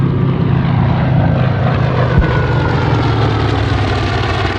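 WWII propeller warplanes, a Corsair, a Wildcat and an Avenger, drone loudly overhead at an airshow in a steady, continuous roar as they fly past, with no talking.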